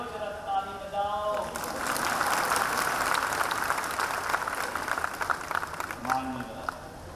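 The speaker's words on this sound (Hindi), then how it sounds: "नारियों जरा ताली बजाओ" Women in the audience at a Hindu discourse gathering in Gwalior clapping, several seconds of steady massed applause in a hall, framed by someone speaking before and after.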